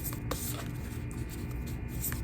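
A deck of oracle cards is shuffled by hand, giving soft continuous papery riffling and light taps, close and quiet without any talking over it.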